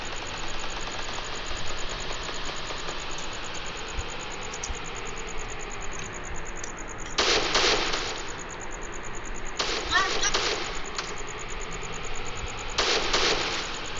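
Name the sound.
car engine in Free Fire, from a video game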